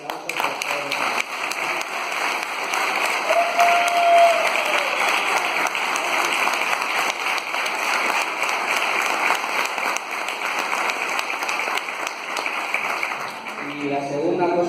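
Congress audience giving sustained, dense applause from a large crowd, steady and loud for the whole stretch, with a short voice briefly heard over the clapping near the end.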